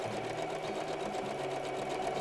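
A home sewing machine runs a continuous zigzag stitch around the edge of fabric for a children's garment, a steady close mechanical whir with a fast rhythmic pulse and no pauses.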